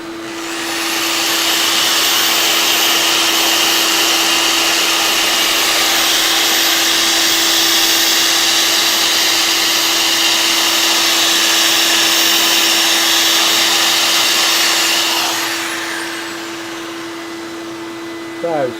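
A power sander runs with the next grit of sandpaper at a craft workshop, with a loud, steady whine that holds for about fifteen seconds and then winds down and cuts off.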